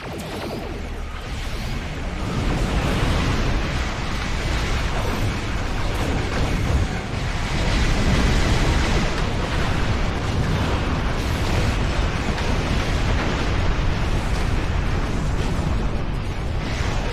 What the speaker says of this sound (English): pretty explosion